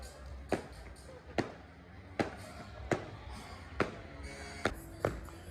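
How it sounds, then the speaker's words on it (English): Fireworks going off outdoors at a New Year celebration in Australia: seven sharp, evenly spaced bangs roughly a second apart, moderately distant, over a steady crowd murmur. "They may not be as lavish as the Sydney Harbour fireworks, but they're still pretty impressive"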